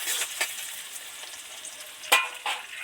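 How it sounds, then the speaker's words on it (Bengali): Chopped onions fry in a pan for a Bengali fish dish, with a soft, low sizzle broken by a few sharp stirring scrapes near the end, heard close and without voices. "পেঁয়াজগুলো মোটামুটি ভাজা ভাজা হয়ে গেছে"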